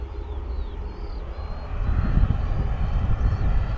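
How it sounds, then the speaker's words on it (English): A plane passes overhead near an airport at sunrise, a low, rumbling engine drone that swells slightly louder toward the end against light outdoor breeze, with no talk. "Sounded like a plane flying overhead."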